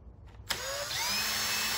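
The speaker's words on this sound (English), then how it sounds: "So let's go ahead and drill" A drill bores through the plastic cover of a Predator 3500 inverter generator, starting with a sharp bite and then whining steadily at close range, its pitch rising as it spins up. No one speaks.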